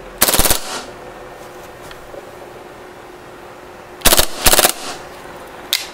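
A KWA H&K MP7 airsoft gun fires full auto in short, very rapid bursts: one burst, a quiet pause, then two quick bursts and a final single shot, loud and close.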